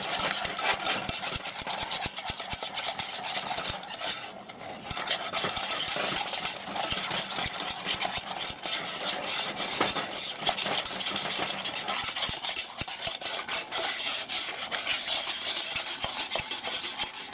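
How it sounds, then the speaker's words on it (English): Two eggs whisked vigorously into a warm chocolate mixture for grain-free brownies: rapid, continuous metallic clicking of a whisk against the pot, loud and close, with no talk. "You want to whisk like mad so you don't cook the eggs."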